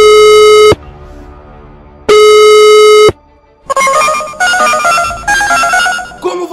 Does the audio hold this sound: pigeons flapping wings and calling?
no